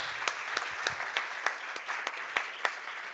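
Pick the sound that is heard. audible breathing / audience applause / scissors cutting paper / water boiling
audience applause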